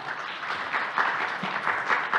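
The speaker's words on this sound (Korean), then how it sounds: "자장님과 연사분님께 다시 한번 큰 박수 부탁드리겠습니다" At the close of a battery conference session on solid-state cells, the audience gives a short round of applause for the host and speakers. The clapping is brief, moderate and fairly even.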